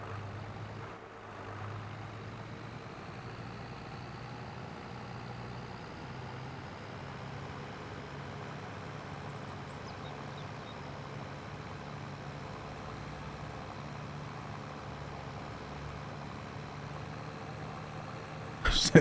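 Loaded tractor engine in Farming Simulator 22 drones steadily for the whole stretch, a low, continuous heavy-engine rumble with a subtle shift partway through, fairly close and unbroken, no voices over it.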